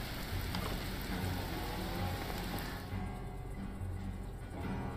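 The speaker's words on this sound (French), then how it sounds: "c'est cool, il pleut." Steady rain falls in the farming survival game Mr Prepper: Animal Farm, a constant hiss of drops on surfaces with a low rumble underneath, the texture thinning and shifting partway through.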